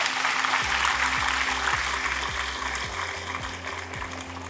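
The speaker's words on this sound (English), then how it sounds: "Can you make those applauses a little louder?" An audience of freshers at a college inauguration claps together in a dense burst of applause that is loud at first and eases slightly over the clip.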